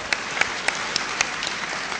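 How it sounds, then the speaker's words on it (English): Conference audience applause during a plenary session, a soft background wash of clapping with a few sharper individual claps standing out at irregular intervals. "Please give him another round of applause."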